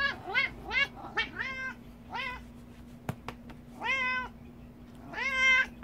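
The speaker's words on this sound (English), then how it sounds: "Meow, meow." A cat visiting a room where a closet shelf is being set up gives several clear, close meows in short bursts, with pauses between them and a faint steady hum in the background.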